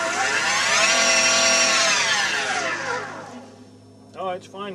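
A Solectria permanent magnet electric motor, rated to 7,000 RPM, spinning at under 3,000 RPM in a car: a loud, steady tonal whine with stacked harmonics that holds, then dips and fades, with a voice briefly speaking near the end.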